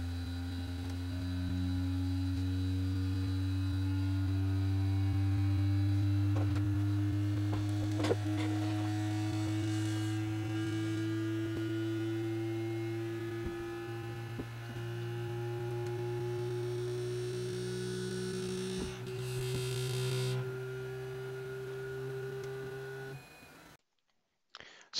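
A 3D printer running an input-shaping resonance test, sped up, with a sustained motor hum whose pitch slowly rises and some buzzing vibration, before it cuts off near the end.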